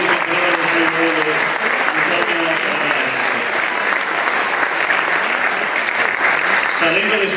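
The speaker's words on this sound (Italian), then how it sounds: "Un applauso anche al presentatore già sindaco di Caprera." A large audience at an Italian choral festival gives a loud, sustained round of applause for the presenter, a dense, even roar of clapping lasting throughout.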